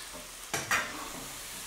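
Shrimp and rinsed canned cannellini white beans being mixed in a hot pan: two short bursts of stirring and sizzling, close by, with quiet gaps between and no talking.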